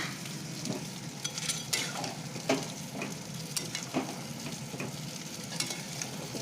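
Bori lentil dumplings stirred into shukto, a Bengali mixed-vegetable dish, a steady soft sizzle under scraping spoon strokes with several sharper clinks; no voices.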